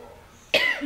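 Someone coughs once, a sudden sharp burst after half a second of quiet room tone, loud and close, with a brief rasping tail.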